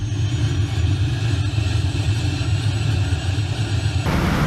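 Flight-simulator IAI Westwind 1124 rolling out after touchdown with thrust reversers deployed: a steady, loud, low engine rumble that holds evenly, then changes abruptly near the end.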